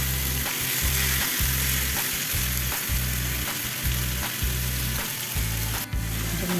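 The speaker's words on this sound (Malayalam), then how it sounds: "മീൻ്റെ ഒരു സൈഡൊക്കെ റെഡിയായി വന്നപ്പോൾ എല്ലാം ഒന്ന് തിരിച്ചിട്ട് കൊടുക്കുകയാണ്." Masala-coated fish pieces fry in a pan with a continuous bright sizzle, a brief sharp clatter near the end as pieces are turned, all under a steady rhythmic music beat.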